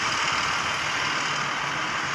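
An XGMA motor grader idles with a steady, continuous engine drone, close by and unbroken, with no voices over it.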